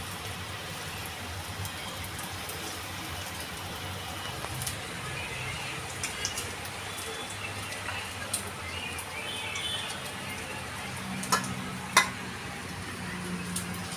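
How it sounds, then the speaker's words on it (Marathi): Beetroot cutlets frying in a small pan, a second batch of three cooking at once, giving a steady soft sizzle and crackle with occasional sharper pops throughout. "आता ही दुसरी बॅच आपण तळत आहोत।"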